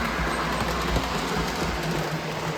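A model train rumbles along its track with a steady low running hum and faint rhythmic clicks, close by and continuous.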